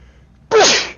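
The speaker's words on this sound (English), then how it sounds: "I'm gonna sneeze." A single loud, close human sneeze bursts out abruptly after a short quiet moment and trails off within half a second.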